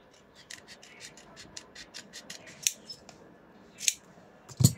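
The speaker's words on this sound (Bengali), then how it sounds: "এই যে একটা কুচি ফ্রক যেভাবে কাটে সেভাবেই কাটলাম গলা কাঁধ মোহরা বডি সব কিছু" Scissors snip through fabric while cutting a frilled frock, a quick run of crisp rhythmic cuts followed by a few sharper separate snips, close and clear with no speech.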